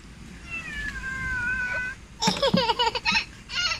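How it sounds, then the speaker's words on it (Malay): A cat meows near a cattle pen on a farm, one drawn-out cry followed by a run of shorter, louder meows in quick succession, over faint outdoor background noise. "Kucing ni pun tiba-tiba pula ada kat sini kan."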